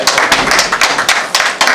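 Audience applause breaks out at an Inner Wheel Club birthday gathering, a close, rapid patter of hand claps in uneven bursts from a small crowd, with no talking over it.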